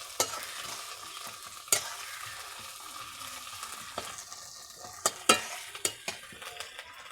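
Ginger paste fries in a pan with pointed gourd and prawns, a soft steady sizzle broken by sharp scraping clicks from stirring, close and moderately quiet, with no talk.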